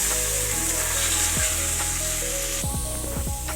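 Dal and broken wheat dalia sizzle in a hot pan with fried ginger and green chilli for a vegetarian khichuri, a steady close frying hiss with a few scraping stir knocks near the end.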